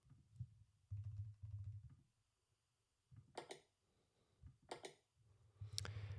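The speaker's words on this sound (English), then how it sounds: "here is mouse click sound" Several sharp clicks in small clusters, like a computer mouse being pressed, separated by low thumping and quiet gaps.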